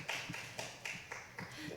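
A congregation at a Sunday morning church service claps in thanks, a quiet, distant patter of applause with soft rhythmic pulses and no voices over it.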